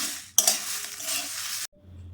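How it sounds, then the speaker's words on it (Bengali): Whole cardamom, cloves, cinnamon and nutmeg being stirred in a pan while making homemade garam masala: a sudden rattling, scraping burst lasts just over a second, then cuts to near silence. "এলাচ লবঙ্গ দারুচিনি জায়ফল দিয়ে দিলাম দিয়ে নাড়াচাড়া করে নিলাম"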